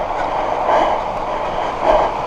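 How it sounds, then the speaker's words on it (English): A train rumbles past near a cycle route in rural Yorkshire, a steady loud rushing roar with faint rhythmic clatter and two brief squealing swells, close by and with no talk. "Near a train."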